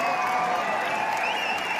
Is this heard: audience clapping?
yes